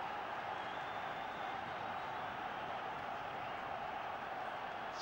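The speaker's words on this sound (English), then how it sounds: "If the crowd needed anything to get it going, it's already found it" Steady, dense crowd roar from a football match at Hampden Park, Scotland v England in 1980, filling the whole stretch as a continuous broad wash of voices with no distinct breaks or peaks.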